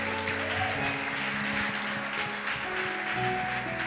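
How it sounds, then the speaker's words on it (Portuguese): A church congregation clapping steadily, dense and continuous, over sustained music. "Você pode aplaudir."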